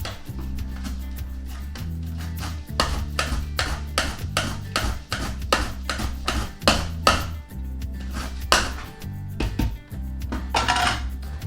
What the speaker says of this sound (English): I'm going to shred the cucumber onto my cutting mat